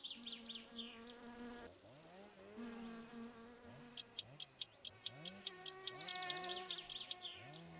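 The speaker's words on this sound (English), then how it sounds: "Why do the mosquitoes bother you?" Mosquitoes in the video game My Summer Car whine with a thin, wavering buzz that swoops up and down in pitch, accompanied by rapid regular ticking clicks in the second half, with no talk.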